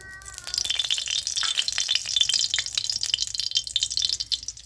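Nigella seeds and onion frying in oil in a wok make a dense, crackling sizzle with rapid popping and rattling that holds steady throughout, close up.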